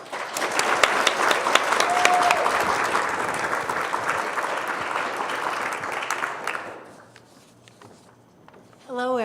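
An audience at a Friday Forum on Aging applauds to welcome guests, including Oregon Chief Justice Martha Walters, with dense steady clapping for about six seconds before it dies away into quiet and a voice begins.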